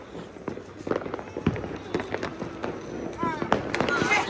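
Diwali firecrackers pop in scattered sharp bursts, one after another at close and middle distance, with a faint whistling rocket near the end and voices talking throughout.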